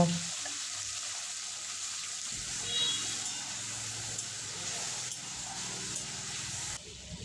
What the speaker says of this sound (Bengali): তেল গরম হয়ে গেলে মাছগুলো দিয়ে দেব চিংড়ি মাছ খুব হালকা করে ভেজে নেব